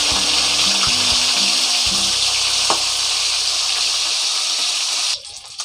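Fish fry in oil in a kadai for the Odia dish macha ghanta, giving a loud, close, steady sizzling hiss with a low hum beneath. The sizzle drops away abruptly near the end.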